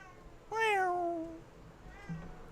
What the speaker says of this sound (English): my kitty wants out again. I can hear her beginning to yowl.